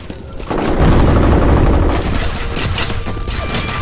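A grenade blast booms in F.E.A.R., followed by a rapid burst of gunfire rattling close and loud, with no talk in between.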